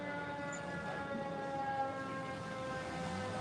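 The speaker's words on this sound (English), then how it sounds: "it's non-stop engines, or excuse me, sirens" Sirens sounding outside a courthouse during a retrial, a steady sustained wail with layered tones holding at an even loudness throughout, somewhat distant and unbroken, with no talking.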